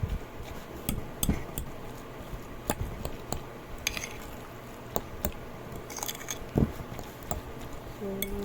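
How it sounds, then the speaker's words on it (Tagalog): Cooked rice being stirred and mixed with a utensil, giving soft scraping, squishing and clinking strokes at an irregular rhythm, close and fairly quiet, with faint background noise. "So, haluin ko lang siya ng maigi para lahat ng kanin is malagyan ng."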